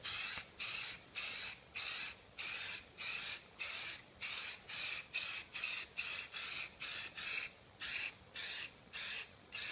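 Plasti Dip hisses from an aerosol can onto a car wheel rim in repeated short bursts, roughly two per second with brief pauses between, loud and close with no speech.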